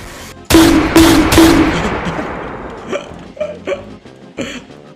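A line of soldiers fires a musket volley in the Roblox game Blood & Iron, three loud ragged cracks in quick succession followed by a long rolling echo, then scattered fainter shots further off.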